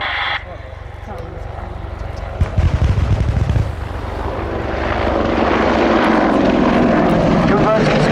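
An Apache attack helicopter at an air show thunders past with a heavy rotor and engine roar that swells and stays loud, while a commentator talks over it.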